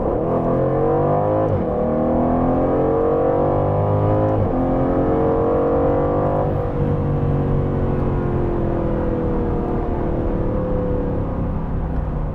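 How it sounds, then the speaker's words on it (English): Aston Martin Vantage twin-turbo V8 revving hard through the gears, a loud, close engine note climbing in pitch with shift breaks around two, four and six seconds, then holding a sustained high rev, with no voices. "They managed to make a twin turbo V8 sound really nice."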